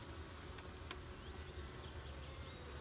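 Steady buzzing of bees around comb fills the air, a dense continuous drone of many bees with faint high-pitched tones, fairly quiet and unbroken.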